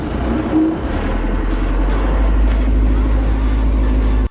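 An MTZ tractor engine pulls away in gear, its loud steady low drone holding close throughout with a brief higher rev near the start before cutting off at the end.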